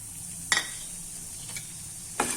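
Coarse bhakhri flour roasts in a little ghee for Mathura-style sheera, giving a faint, steady sizzle broken by three soft scraping clicks from the stirring spoon.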